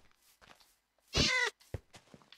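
A single cat meows in the video game Minecraft, one clear drawn-out meow standing alone amid faint quiet background sounds.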